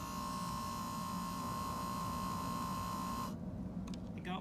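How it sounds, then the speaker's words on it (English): A motor inside a 1981 Datsun voice module, taken apart, runs with a steady electric hum and whine that cuts off abruptly near the end, leaving a few faint clicks. "And here we've got the motor moving."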